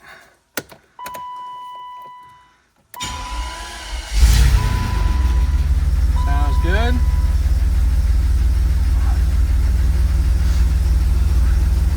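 A BMW 850i engine cranks and catches around the middle, then settles into a steady, loud idle that runs to the end, with brief talk before the start.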